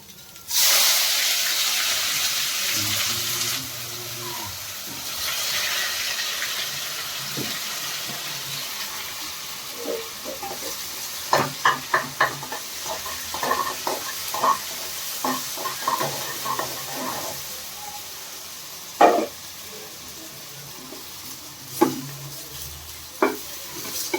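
Chopped onions sizzle in a hot pan with an initial loud hiss, then a stirring utensil scrapes and taps repeatedly against the pan while the frying continues underneath. The sound is close and there is no talk.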